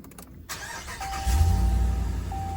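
A Ram truck's engine cranks and catches, then settles into a steady low idle rumble, close and fairly loud, with a faint tone in the background.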